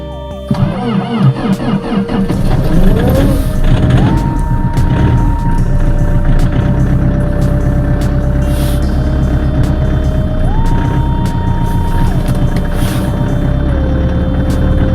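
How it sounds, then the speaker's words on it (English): A freezing car in Lapland, Sweden, at minus 23 degrees cranks and catches, then settles into a loud, steady running engine close by, its pitch rising and falling as it is revved, with no talk. "trying to fire up the car."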